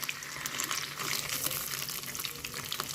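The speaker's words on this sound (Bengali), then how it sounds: "কিছুটা সাদা তেল গরম করে পনিরগুলোকে দিয়ে দিলাম" Paneer cubes fry in hot white oil, giving a steady, dense crackling sizzle that holds at an even level throughout, heard alone with no voices.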